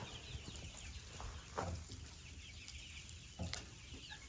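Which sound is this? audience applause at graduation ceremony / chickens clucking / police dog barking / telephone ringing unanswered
chickens clucking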